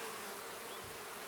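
Honey bees buzz around a hive on a warm spring day in Toronto, a brief, faint and steady drone with no voices.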